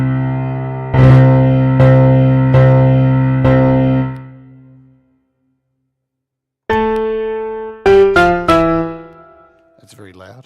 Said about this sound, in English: Let's do like an octave chord.